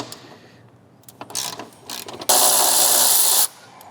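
A hand wrench loosens support brace bolts on a car, clicking in a few short ratcheting bursts, then a loud continuous ratchet buzz for about a second before stopping, close up.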